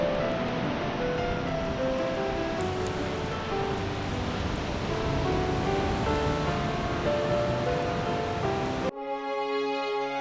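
Ocean surf washes onto a wide beach at Noosa North Shore, a continuous loud rushing wash heard up close, with a short musical tone at the very end.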